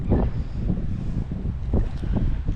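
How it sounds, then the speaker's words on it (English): Gusty wind buffets the microphone on a saltwater mangrove shore in Tampa Bay, a close, rumbling roar with uneven surges and no voices. "the wind seems to be picking up pretty bad here"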